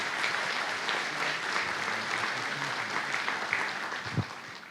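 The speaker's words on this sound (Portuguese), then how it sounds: "a nossa assim acolhida com uma salva de palmas" A crowd applauds steadily, a dense, sustained patter of many hands clapping throughout, with no voices standing out.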